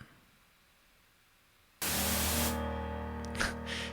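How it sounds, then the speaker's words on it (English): White noise effect from a sound design session: a low hiss, then a loud, steady broadband rush that cuts in abruptly partway through with a low hum underneath, with a few brief bursts near the end. "Let's go back to white noise."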